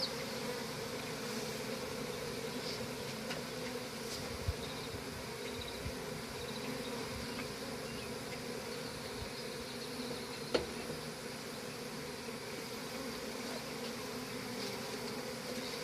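A big swarm of honeybees buzzes steadily and densely throughout, a continuous close drone with no voices over it.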